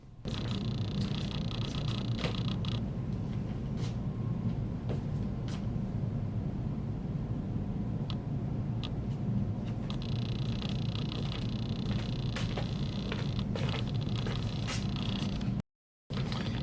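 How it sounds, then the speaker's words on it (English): Autofocus motor of a third-party lens mounted through an FTZ adapter on a Nikon Z50, running loudly as a steady whirring hum with faint scraping that continues almost without pause. "You hear the motor is running quite loud."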